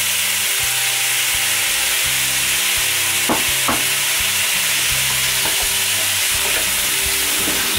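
Onions sweating in a pan give a loud, steady sizzle and frying hiss throughout, with a few wooden scrapes and knocks of stirring.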